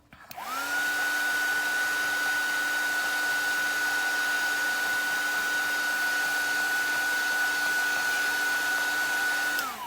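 A handheld heat tool heat-setting fabric for a mixed media art mask, a steady loud whirring blow that starts, holds evenly for about nine seconds and then cuts off.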